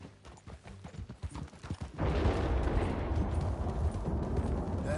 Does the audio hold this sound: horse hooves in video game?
yes